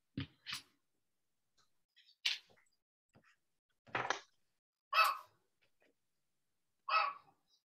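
A dog barks obsessively in short, sharp, honking bursts almost like a goose, spaced irregularly and fairly faint against a quiet room.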